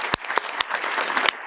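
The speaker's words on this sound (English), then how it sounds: "So maybe just a round of applause for the speakers." Audience at an artificial intelligence workshop applauding the speakers, a brief burst of dense, close clapping with a few sharper individual claps standing out.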